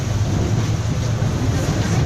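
Speedboat moving across water, a steady close engine drone mixed with rushing water and wind noise, continuous and loud throughout.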